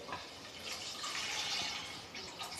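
Water is poured into rice in a pot for egg biryani, about three glasses' worth, a continuous splashing gush, close and fairly soft, with no talking.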